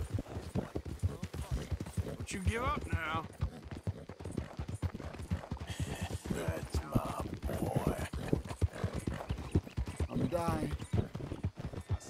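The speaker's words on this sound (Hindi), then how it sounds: "आर्थर मॉर्गन की घोड़े पे है तू।" A horse's hooves clip-clop in a rapid, steady rhythm in Red Dead Redemption, heard loud and close throughout while someone talks over them.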